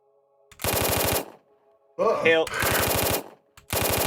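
Machine gun fire sound effect played during a Shadowrun tabletop game session: three loud, rapid-fire bursts separated by short silences, with a brief whooshing, warbling effect between the first and second bursts.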